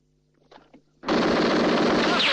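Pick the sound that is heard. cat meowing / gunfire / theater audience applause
gunfire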